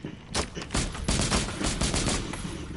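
Rapid automatic gunfire in the video game Rainbow Six Extraction, loud dense bursts of shots pounding in quick succession for nearly three seconds, close and dominant.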